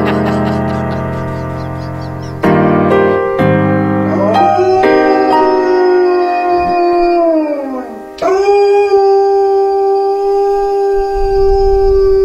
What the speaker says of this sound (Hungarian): Kutya.